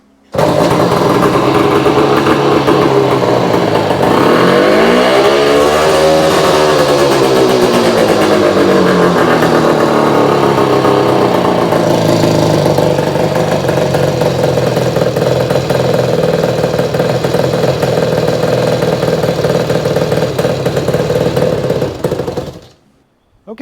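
A 1967 Yamaha YCS1 motorcycle with a sticky throttle fires up and runs loud and close, with a rising and falling rev early on before settling into a steady buzzing idle that cuts off at the end.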